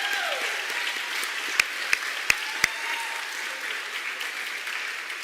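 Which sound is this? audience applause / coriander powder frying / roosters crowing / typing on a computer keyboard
audience applause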